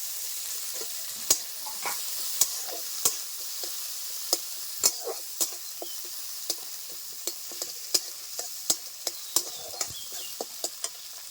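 Chopped onion, green chili and chital fish stir-fry in a pan, with continuous soft sizzling punctuated by a regular series of sharp spatula clicks against the metal.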